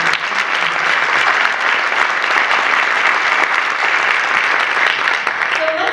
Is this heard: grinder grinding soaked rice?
no